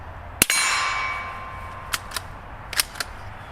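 A steel gong target clangs loudly as a .22LR bullet strikes it, ringing out for about a second, followed by several fainter, sharp metallic pings at the range.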